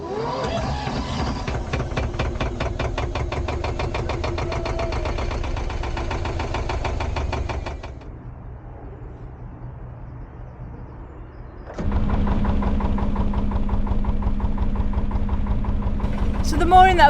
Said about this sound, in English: I've had my starter motor fixed, so hopefully now she'll start first time, no banging needed